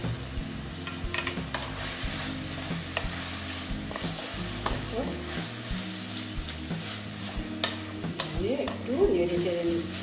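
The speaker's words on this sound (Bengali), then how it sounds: "একটু নেড়ে চেড়ে নিচ্ছি।" Spoon stirring food frying in a pan with Kashmiri red chili powder added, giving a soft continuous sizzle with scraping strokes throughout, close and moderately quiet.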